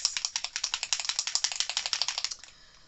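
Rapid, evenly spaced pumping clicks of a Distress Oxide spray bottle splattering ink onto a 12x12 scrapbook page, about twenty sharp close ticks in a steady rhythm, then stopping.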